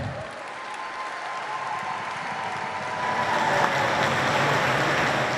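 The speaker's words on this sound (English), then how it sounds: "A big round of applause for them" Sustained applause from a large audience at a choir games event in a national sports complex, a steady wash of clapping that swells louder partway through and holds to the end.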